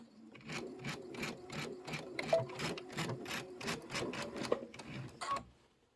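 A sewing machine stitches a 1.5 by 12 inch quilt strip in a quick, steady run of rhythmic mechanical thumps, close and fairly quiet, stopping near the end.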